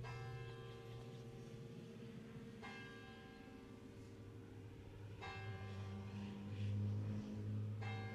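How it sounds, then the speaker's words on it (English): Clock tower bell chiming ten o'clock outdoors, a few slow, resonant strikes spaced several seconds apart, each ringing out and decaying, heard at a distance over faint street and traffic noise. "it's chiming. It's chiming for us"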